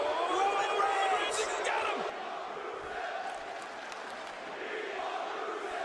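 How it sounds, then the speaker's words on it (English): A crowd in a wrestling arena chants loudly in unison, then settles into a lower, steady roar of massed voices. "The fact that the crowd was chanting, "We want Rusev,""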